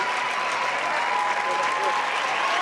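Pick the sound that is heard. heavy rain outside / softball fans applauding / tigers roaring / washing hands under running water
softball fans applauding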